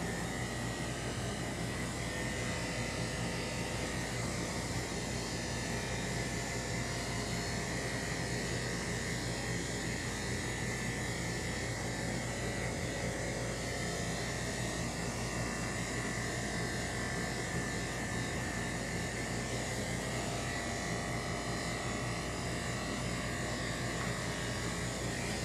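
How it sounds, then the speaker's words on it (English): Electric dog clippers shave against the grain of a dog's armpit hair, a steady, close, continuous buzz that holds at an even level with no talk. "what I can do is shave against the hair to get it even shorter"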